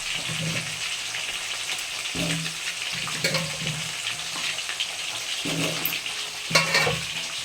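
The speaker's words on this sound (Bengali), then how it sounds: "এবার এই কয়েকটি লাল লাল করে ভেজে নেবো আলু" Potato pieces fry in hot oil in a Bengali kitchen while crab is being cooked, a close continuous sizzle broken by several sharp stirring scrapes and clatters.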